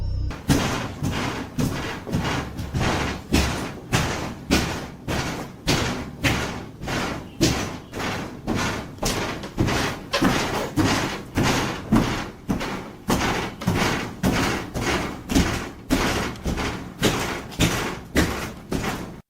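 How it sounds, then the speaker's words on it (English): Heavy banging and dull thuds boom through a house in a steady, relentless rhythm, each hit loud and echoing with a short reverberant tail, repeating nonstop with no voices. "From other rooms, echoes of banging and strange thuds filled the house"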